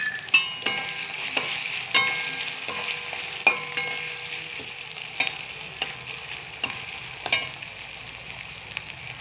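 Spiced fish masala frying in a pan, stirred with a spoon, a soft steady sizzle broken by repeated sharp scraping taps at an irregular rhythm, close by, with no talk.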